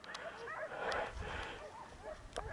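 Hunting dogs barking during a wild boar hunt, heard as distant, scattered yelps and barks across open terrain, faint and steady with no talk over them.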